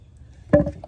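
A single quick slosh as dirty wash water from freshly washed wool is dumped out, brief and close, with near silence before it.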